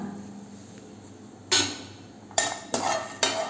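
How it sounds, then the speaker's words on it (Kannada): A spoon scrapes and knocks against a pan while garlic, green chillies and salt dry roast for Maharashtrian paneer thecha, four distinct clatters over quiet background after a near-silent start. "ಇದೆಲ್ಲ ಸ್ವಲ್ಪ 1 ಅವರ್ವರೆಗೂ ಡ್ರೈ ರೋಸ್ಟ್ ಮಾಡ್ಕೊಳ್ಳೋಣ"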